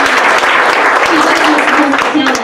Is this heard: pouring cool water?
no